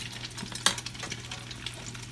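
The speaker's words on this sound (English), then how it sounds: "frying up the egg foo young patties" Egg foo young patties sizzle steadily in hot oil, a soft crackling hiss with a small clink of a utensil partway through.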